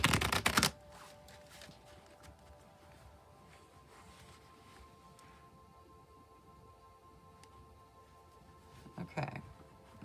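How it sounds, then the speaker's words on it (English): A tarot card deck being shuffled: a loud riffle burst at the start, then a quiet, steady stretch of soft card handling, and a second short riffle near the end. "I'll shuffle till I feel like the deck is ready, and then we'll cut the deck and deal right off the top."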